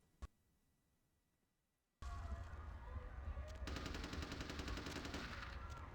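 In Vampire: The Masquerade – Bloodlines, one sharp shot cracks out of near silence, and then a loud sustained burst of rapid automatic gunfire keeps hammering, close and dense.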